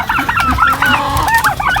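Several chickens on a farm cluck and chatter continuously at close range, with overlapping squawky calls and no voices.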